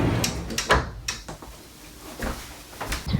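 A sliding door between the cockpit and saloon of a Moody 54DS yacht rolls along its track with a close, firm thump and rattle, followed by softer knocks and settling sounds.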